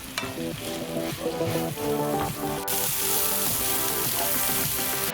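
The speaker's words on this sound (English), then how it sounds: "And finally, add the shrimp heads and fry." Shrimp heads fry in melted butter with minced garlic in a frying pan, a close, steady sizzle and crackle with occasional stirring clatter, growing louder and denser midway.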